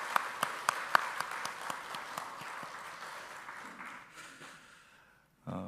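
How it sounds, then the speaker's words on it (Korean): Applause from a church congregation during a Wednesday worship service, starting with a few distinct sharp claps and settling into a moderate, fading patter that tails off to near silence. "우리 하나님 앞에 함께 영광의 박수를 올려드립시다."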